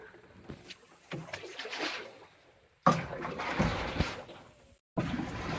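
Small boat moving on jungle water in Costa Rica, with broadband water and hull noise rising and falling in bursts, close and moderately loud, broken by brief pauses.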